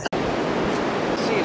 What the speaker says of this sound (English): We're gonna hear the wind.